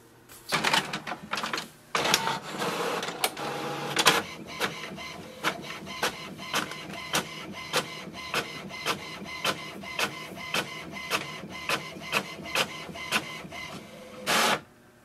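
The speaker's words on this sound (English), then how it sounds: "So here we can see our printer has printed the welcome sheet." An HP Envy Photo 7830 inkjet printer printing a welcome sheet, giving a steady run of rhythmic mechanical clicks and carriage passes after a few louder feed noises, close and alone with no talk.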